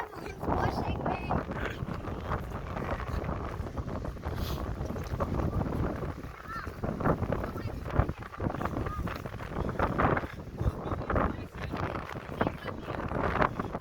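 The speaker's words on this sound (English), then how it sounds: "The wind's pushing me." Strong wind outdoors buffeting the microphone in constant rumbling gusts, with people talking and calling out underneath.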